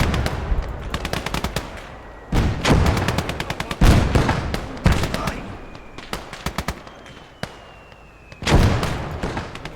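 Battlefield din in the war video game Blood Red Snow: rapid bursts of machine-gun fire mixed with heavier booming mortar impacts, loud and close, in repeated volleys with short lulls between them.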